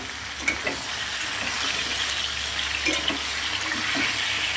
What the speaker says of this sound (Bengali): আলু আর পুঁই শাকের ডাঁটিগুলো আগে পাঁচফোড়নের মধ্যে দিয়ে ভালো করে নাড়াচাড়া দিয়ে নেব।